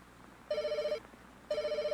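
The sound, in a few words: telephone ringing in video game Night Shift: 1999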